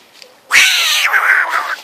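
A cat in a park gives one loud, drawn-out meow, starting after a quiet moment and holding for over a second, close and clear with no talk over it.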